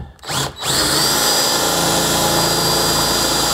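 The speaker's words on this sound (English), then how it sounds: "I got to drill right here, this uh, hole into the boat that I haven't done yet." A power drill bores a hole into a boat while a livewell aerator timer and rocker switch are being installed. It is loud and close: a short spin-up and pause, then a steady, sustained whine.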